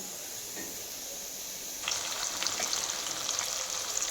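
Stuffed eggplants hit a hot pan of whole stuffed vegetables cooked undhiyu style, and a steady sizzle suddenly grows louder and denser partway through, crackling continuously up close with no talking.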